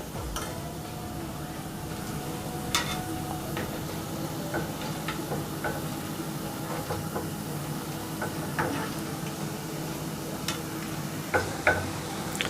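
Idli batter honey candy (then mittai) frying in oil over a low flame, a steady soft bubbling sizzle with occasional light clicks and taps throughout, no talking.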